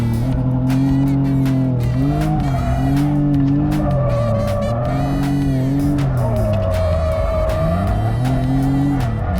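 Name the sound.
car drifting with tire squeal, heard from passenger seat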